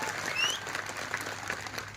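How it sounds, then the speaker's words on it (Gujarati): An audience at a public commemoration event for Birsa Munda in Saurashtra breaks into applause, a faint, even patter of many hands clapping from some distance. "એના માટે એકવાર જોરદાર તાળીઓનો ગડગડાટ થઈ જાય"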